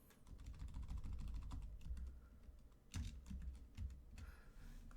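Rapid typing on a computer keyboard, a quick irregular run of close, fairly soft key clicks with a few heavier strokes, heard alone and quiet.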